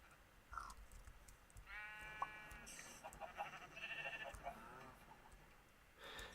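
Several sheep in the video game Minecraft bleat in short, wavering calls, a few in a row at moderate loudness, over a soft clicking background with no talk.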